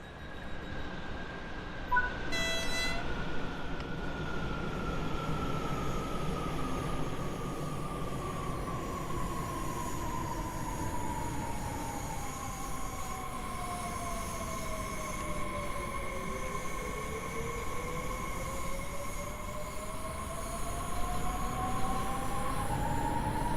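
Class 430 S-Bahn electric train in Train Sim World 5 on the Frankfurt S1 line pulls away with a short horn blast near the start, then motor whine rising and shifting in pitch over a steady rolling rumble.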